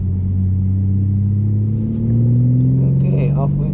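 A BMW G81 M3 CS Touring pulls away at the Nürburgring, its engine rumbling low and steady then climbing in pitch as it accelerates, with people talking inside the cabin.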